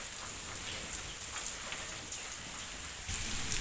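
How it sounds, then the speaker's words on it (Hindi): Heavy rain falls outdoors during a storm, a dense, even hiss of drops striking surfaces, with the downpour swelling slightly louder near the end and no voices. "ये देखिए जी इतनी तेज़ बारिश आ गई है"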